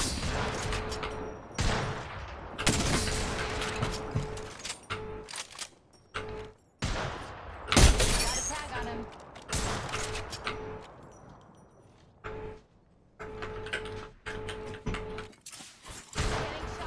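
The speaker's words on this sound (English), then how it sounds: "We're trying to just shoot each other." Gunfire in the battle royale game Apex Legends, with repeated bursts and sharp shots that come in clusters over most of the stretch, loud and fairly close, between short quieter gaps.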